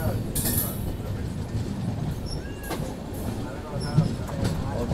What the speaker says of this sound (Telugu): అవతల సైడ్ అయితే ట్రైన్ వచ్చింది.